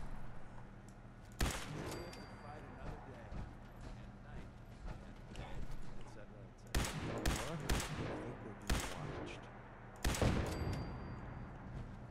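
Turrets in Fallout 4 fire in several loud, sharp bursts separated by quieter stretches, with faint rattling and background game noise under a talking voice.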